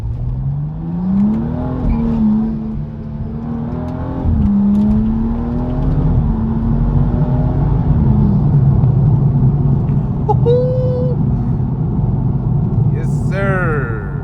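A BMW M235i driving through Johannesburg traffic, its engine humming steadily and rising and falling with speed, close up from the cabin, with someone talking over it and a brief horn-like tone near the end.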